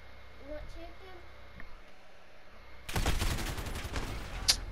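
A sudden volley of rapid gunfire breaks out partway through a Call of Duty Modern Warfare 2v2 match and stays close and loud until the end, with a player's voice nearby.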